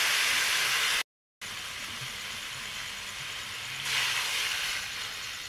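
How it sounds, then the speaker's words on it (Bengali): Water poured into hot oil in a cooking pan while making a puti fish chorchori hisses and sizzles steadily, a broad close steam rush with a brief gap and a louder surge near the end. "এখন পরিমাণ মতো জল দিয়ে দিচ্ছি"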